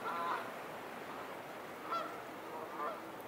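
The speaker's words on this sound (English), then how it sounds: "Geese flying over." Geese honk overhead in three separate bursts, fairly distant, over a steady outdoor background hiss.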